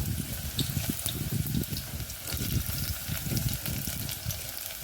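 Onion sautéing in oil in a pan for a goat mutton curry, a steady close sizzle with bubbling, watery crackle and scraping throughout, no voices.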